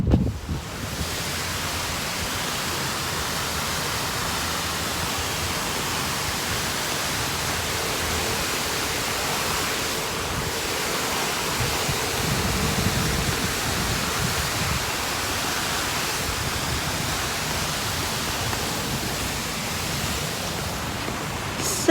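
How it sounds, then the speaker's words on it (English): Steady broadband rushing of running water, continuous and fairly loud throughout, like fountains or cascades close by with no talking. "So lovely, all the water features."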